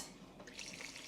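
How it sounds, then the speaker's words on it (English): About two cups of water pour straight into a crock pot over a beef bouillon cube, a short, soft splashing trickle close by with no talking. "I'm just going to use a beef bouillon cube and about 2 cups of water straight into the crock pot."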